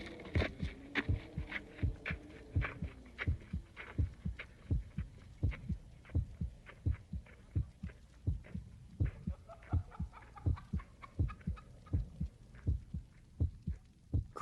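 A recorded heartbeat digitized from an old record track, steady rhythmic double thumps repeating throughout over a faint background hum, with soft wind-like noise and murmurs layered in.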